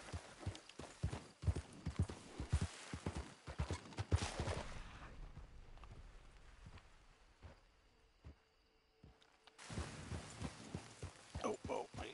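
Horse hooves clip-clop in the Red Dead Redemption 2 video game, a rapid rhythmic run that stops midway, then resumes after a quiet stretch.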